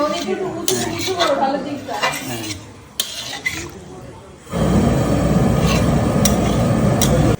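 A metal pot of red rooster curry clinks and clanks as hot water goes in and a lid is set on. A steady rushing bubble follows, and a voice talks through the first half.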